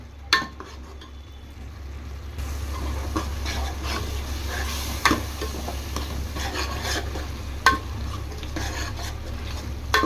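Masala spices frying and being stirred in a pan for a Nellore-style brinjal pulusu, a steady low sizzle with scraping spoon strokes and occasional sharp clinks against the pan.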